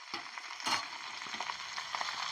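Mint leaves and chana being fried and stirred in oil in a pan for chennangi leaf chutney, a steady close sizzle with scraping stirs and a louder burst near the start.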